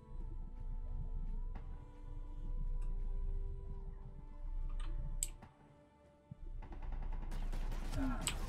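Turret in Space Engineers taking intermittent pot shots, sparse distant gunfire and clicks over a steady mechanical hum, with a brief lull, then a denser rattle of shots near the end.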